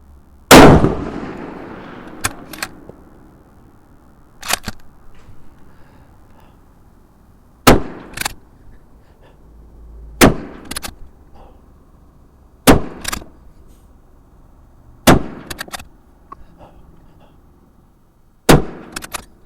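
Eight loud, sharp rifle shots from a Tikka T3x Arctic firing heavier bullets on a range, spaced evenly a few seconds apart, each followed by a short echoing tail.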